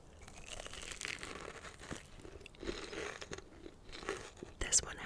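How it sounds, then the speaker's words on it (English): Labubu edible crystal candy is bitten close to the mic, giving sharp hard crunches and brittle cracking. Soft crinkling and quiet mouth noises run between the bites. "Now for the crunch."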